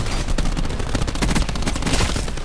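Rapid gunfire in the video game Call of Duty Black Ops 4, a dense, loud, continuous stream of shots throughout.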